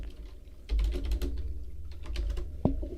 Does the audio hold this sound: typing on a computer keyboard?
yes